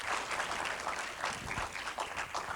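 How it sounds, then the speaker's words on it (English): An audience applauds a woman at a spiritual teaching talk, a steady wash of clapping for a couple of seconds at moderate volume with no voices over it. "Round of applause for the lady."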